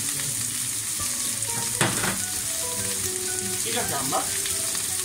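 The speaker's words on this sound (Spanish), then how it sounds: "luego echamos las verduras. Dejamos los tomates para el final y añadimos el jengibre" Vegetables and ginger fry in a hot pan with a steady, close sizzle, and a couple of brief stirring scrapes break through. A voice speaks a few words over the frying.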